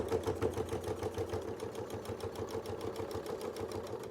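A sewing machine runs steadily, stitching a quilt seam on a circle-on-quilt wreath block, with a fast, even mechanical chatter of needle strokes held at a constant pace throughout, close and moderately loud with no talking.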